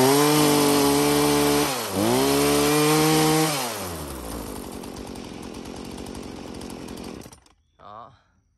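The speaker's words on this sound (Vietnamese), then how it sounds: "cửa hàng chúng em test nổ luôn con này cho các bác nghe qua tiếng máy." A used Husqvarna 120 38cc chainsaw runs loud and close, revving high twice with a dip between, then dropping to a rough idle before cutting off.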